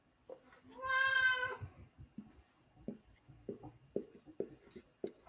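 A person imitates a cat with one drawn-out meow, followed by quiet talking.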